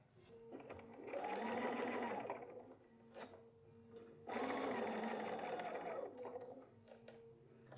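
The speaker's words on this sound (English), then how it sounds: "let's go stitch that down so it doesn't go anywhere" A sewing machine stitches flannel in two sustained runs, each several seconds long, with a short quiet pause between them. The motor's steady whir is close and clear, and no one speaks.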